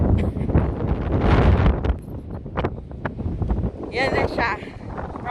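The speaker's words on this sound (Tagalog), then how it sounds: "Kaso lang masyadong mahangin." Gusty wind blasts across the microphone at the Maspalomas sand dunes in Gran Canaria, a loud, rough roar that swells and eases, while someone talks through it.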